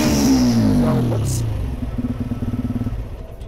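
A 2022 TVS Ronin motorcycle engine revs through its exhaust, rising then falling away into a rhythmic, pulsing idle that is close and loud.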